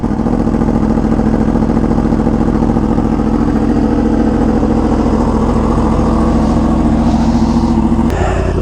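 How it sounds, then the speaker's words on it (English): A Yamaha R1M superbike with a Toast exhaust sits at a loud, steady cold-start idle for several seconds, its even drone cutting off abruptly near the end. "last cold start with this exhaust."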